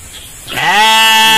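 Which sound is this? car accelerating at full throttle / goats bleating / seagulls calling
goats bleating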